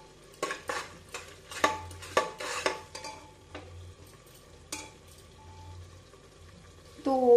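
Masala for a banda curry being stir-fried in a pan, with intermittent scraping and clinks of a spoon against the pan over a soft sizzle, close, with faint background sound.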